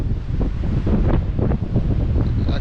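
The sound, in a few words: strong wind on the coast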